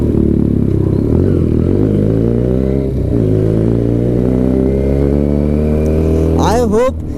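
Benelli TNT300 motorcycle fitted with an Ixil full-system exhaust, loud and close, its engine humming at a steady idle and building throttle, ending in a sharp rising rev.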